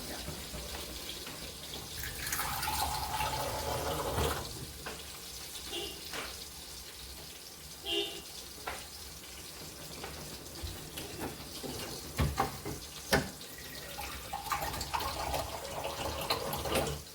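Water runs and splashes for a long stretch as it is poured into a cooking pan, with clanks of metal cookware now and then.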